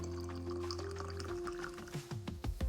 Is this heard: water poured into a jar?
yes